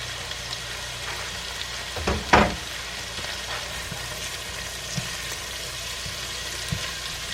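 Garlic hits hot oil in a pan of collard greens with a continuous close sizzle, a brief louder burst of crackle as it goes in, then an even, quieter frying hiss with occasional small ticks.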